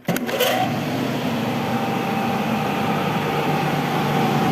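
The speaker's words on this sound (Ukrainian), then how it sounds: "Вентилятор запустився." An industrial centrifugal fan, model VTs14-46 No. 3.15, converted to run on 220 V, starts with a brief click and then settles into a steady, loud, continuous whir and rumble that holds constant throughout.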